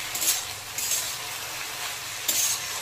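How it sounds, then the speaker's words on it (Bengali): Dhekia fern greens frying in a pan give off a continuous close sizzle and hiss, swelling in a few brief bursts as the leaves are stirred and turned. "শাকটা দিয়ে আরও 2-4 মিনিট ভালো করে ভেজে নেব।"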